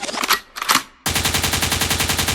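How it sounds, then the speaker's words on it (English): Gunfire sound effect: a loud, rapid burst of automatic shots in fast, even succession, coming after a couple of short noisy bursts. "a gunshot means forward"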